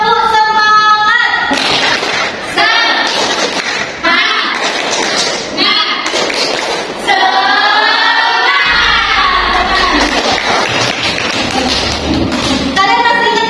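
A school class performs a tepuk semangat chant, children shouting rhythmic words together with bursts of clapping and thumps, loud and close, with the teacher's voice leading between phrases.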